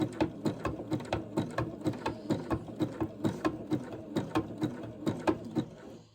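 A sewing machine stitching through fabric strips for a rug runs at a steady, rapid mechanical chatter of evenly spaced pulses, close and alone, easing off at the end.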